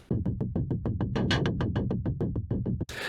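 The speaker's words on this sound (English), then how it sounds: "let's bring in our noise generators, and I'll show you what those sound like" Rapid, evenly spaced bursts of filtered synth noise pulse like soft percussion, about sixteen hits in a steady rhythm, ending in a brief hiss.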